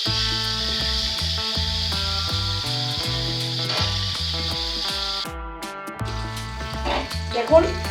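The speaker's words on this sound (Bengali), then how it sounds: "আলুগুলো যতক্ষণ না একটুখানি লাল হচ্ছে ততক্ষণ এই আলুগুলোকে ভাজতে হবে" Potatoes fry in oil, sprinkled with a little salt and turmeric, for a Kashmiri aloo dum. A steady broadband sizzle runs throughout under continuous background music, easing near the end with some clatter.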